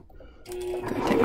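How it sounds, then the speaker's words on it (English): A sewing machine starts stitching a seam joining two fabric squares, a steady motor whir rising loud and close after a brief quiet start. "I'm going to go ahead and start stitching"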